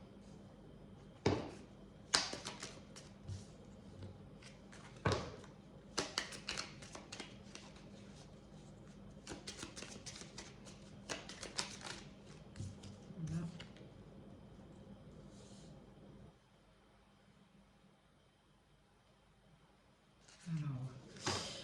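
Oracle cards are shuffled and drawn during a reading: a run of sharp, papery snaps and riffles in irregular bursts, close and fairly crisp, separated by quieter stretches over a low steady background hum.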